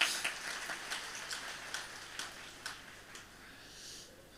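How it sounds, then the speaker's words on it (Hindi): Audience at a spiritual Q&A session clapping, a soft scattered patter of many hands that stays faint and fairly steady, heard from a distance. "ताली बजा।"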